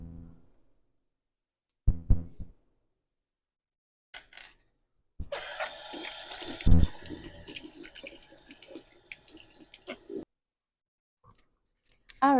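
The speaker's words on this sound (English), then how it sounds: "Wash my hands." A kitchen tap runs for several seconds while hands are washed under it during Christmas cookie baking, a steady close hiss of water with splashes, bracketed by brief clattering handling noises and quiet gaps.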